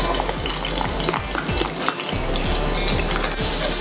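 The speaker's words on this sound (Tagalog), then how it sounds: "pwede na po tayong mag-gisa. Lagyan natin ng mantika at bawang at sibuyas." Garlic and onion sautéing in hot oil, a steady close sizzle with stirring scrapes throughout and no talking.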